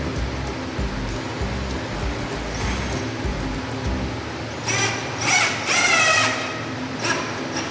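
Power drill driving screws into a dust collection ring on a DeWalt DW735 planer, heard as a few short whirring bursts near the end over workshop handling noise.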